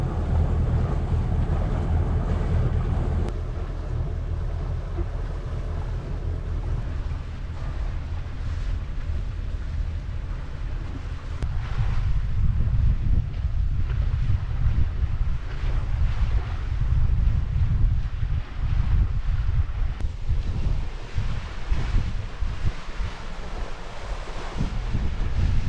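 Wind blows across a sailing boat at sea, a constant buffeting rush over the microphone with low rumbling gusts that swell louder midway, steady and unbroken throughout.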